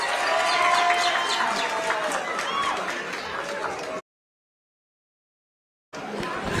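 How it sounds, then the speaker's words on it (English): A large crowd at a political gathering with senators present applauds loudly, a dense wash of clapping mixed with cheering and voices, which cuts to silence for about two seconds before resuming. "You may clap again."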